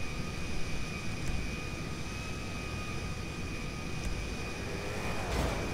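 A plane idles before takeoff in GTA 5, a steady droning engine with a high whine on top, loud, close and unbroken, with no voices.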